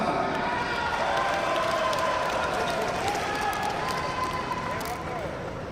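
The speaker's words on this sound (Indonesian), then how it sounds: "Sulawesi Selatan, tepuk tangan." A hall full of delegates at a lawyers' association congress applauds in a steady wash of clapping that holds at an even level throughout, with crowd voices mixed in underneath.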